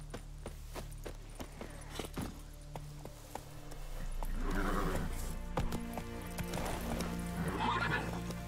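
A horse in The Witcher 3 whinnies and moves along with clip-clopping hooves, a loud neigh rising midway over a low game background hum.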